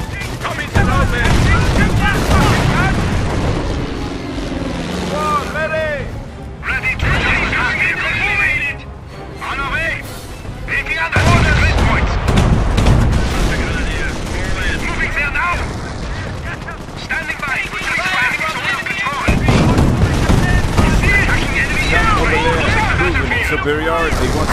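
Machine gun fire rattles in a Company of Heroes battle at Wolfheze during Operation Market Garden, loud and sustained with explosions mixed in and game voices talking over the din.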